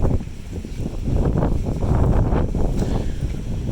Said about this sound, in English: Windy, sunny.